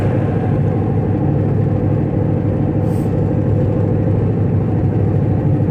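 Steady low rumble of a Chevy cruising down the road, heard from inside the cabin as a constant engine and road drone with no breaks or voices.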